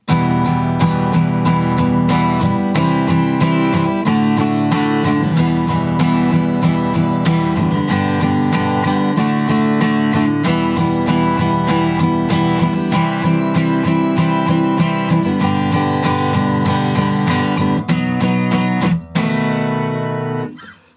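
Guitar strums a rhythmic chord pattern from an Encanto song, steady and close throughout, ending with a final accented chord and decay.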